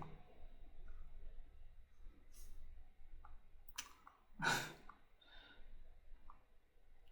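Faint, close clicks of a computer mouse button, a few separate clicks against a quiet room background, with one louder breathy sound in the middle.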